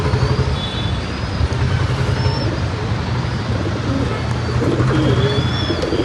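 Pigeons cooing outdoors near a loft, soft repeated low coos under a steady rumble of passing traffic, with a few faint higher bird calls.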